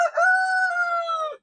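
A backyard chicken gives a single close, clear crow lasting just over a second, with no other sounds around it.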